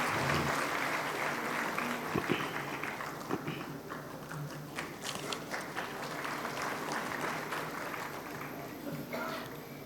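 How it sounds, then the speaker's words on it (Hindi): An audience at a regional Arya convention held in a university hall in Jammu and Kashmir claps loudly at first, then the applause thins and fades while a voice speaks over it. "एक बार जोरदार तालियों से आपका सहयोग इसमें मिलता रहे"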